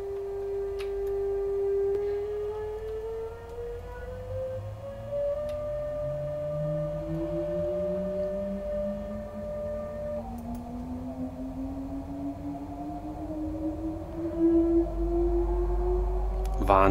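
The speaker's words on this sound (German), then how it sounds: "dieser Transformator-Sound, den man bei so circa 40 km/h hört, ist einfach so unfassbar gut" A BR 146.2 electric locomotive in Train Sim World 5 pulls away toward 40 km/h with its transformer singing: several steady electric tones glide slowly upward together in a continuous, close hum.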